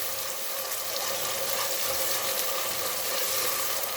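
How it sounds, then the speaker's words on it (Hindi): Chopped onions sizzle steadily in about half a cup of hot oil, browning toward golden for an aloo gosht curry; a dense, even frying hiss with no voices. "तो अब मैं इसमें प्याज को गोल्डन कर लूँगी।"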